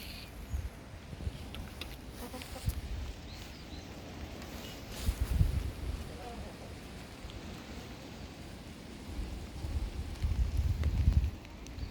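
Strong wind buffets and roars in gusts with rain pattering throughout, swelling louder at moments, no talking, outdoors where chickens are kept.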